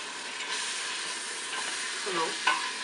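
Beef and almonds frying in a pan for Lebanese rice, a steady close sizzle and hiss, with a faint stir and a short voice-like murmur near the end.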